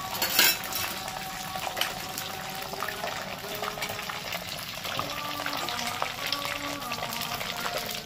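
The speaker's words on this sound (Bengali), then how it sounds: "এবার বাকিগুলো আবার ভেজে নিই।" Chicken deep-frying in hot oil for crispy fried chicken, a steady bright sizzle and crackle running throughout with occasional clinks of a utensil against the pan, close and fairly loud.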